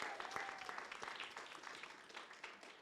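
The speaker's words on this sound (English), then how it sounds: "Let's give them a big round of applause for what they do." Applause from an audience at a Kentucky Derby 150 celebration event in Louisville, a soft, distant wash of many hands clapping that slowly fades over a few seconds.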